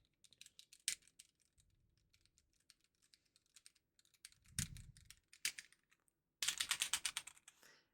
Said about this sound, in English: And so I got a keyboard. This is my keyboard.